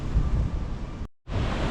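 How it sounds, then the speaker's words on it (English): Loud, steady roar of Category 10 typhoon wind buffeting the microphone on a street in Taipa, Macau, broken by a brief near-silent gap before the gusting rush resumes. "Yeah, it's kind of getting windy."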